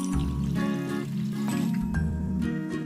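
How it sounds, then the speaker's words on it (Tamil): Water poured into a pressure cooker holding dal with taro stalks, green chillies, turmeric and salt, a steady close pour with splashing and bubbling over clattering kitchen noise. "தண்ணி ஊற்றிடலாம்."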